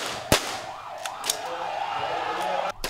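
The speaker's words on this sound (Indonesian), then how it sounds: "Kekacauan mereda setelah polisi memberikan tembakan peringatan." Police warning gunshots during a riot simulation held by West Jakarta police ahead of a legislative election, a sharp loud crack followed by several fainter pops over a noisy crowd background.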